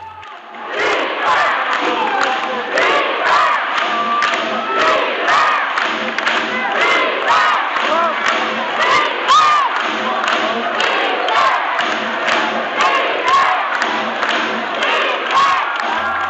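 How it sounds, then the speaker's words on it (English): A basketball crowd at a Melbourne Tigers game cheers and roars continuously, a dense wall of shouting and voices heard steadily throughout with rhythmic peaks. "the sounds of the game this week, you can hear it underneath my voice, is actually from the Melbourne Tigers game on Sunday"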